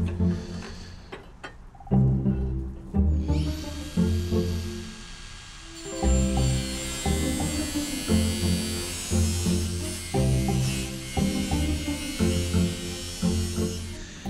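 A metal tube is cut for a repair with a powered cutting tool, producing a loud, pulsing buzz-whine in repeated bursts of a few seconds, with a brighter high grinding edge.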